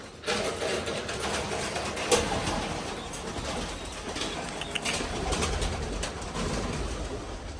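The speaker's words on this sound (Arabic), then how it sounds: "المهم طلقوا الحميمات، طلقوا هاد الشنابر هادو زايدين عندي تاع الفواياجور، طلقوا كاع اللي بغى يطير." Pigeons released from a loft: a busy burst of wing flapping and fluttering, fairly close, with a few soft coos over a steady background hiss.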